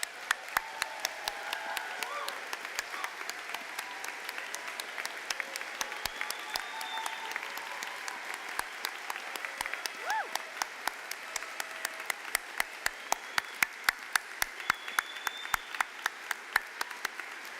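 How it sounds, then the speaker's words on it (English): A standing crowd applauds at a university graduate school spring commencement, sustained clapping for the whole stretch with sharp individual claps standing out, a few cheers and voices rising over it, moderately distant in a large hall. "let's just start by standing with a roaring applause"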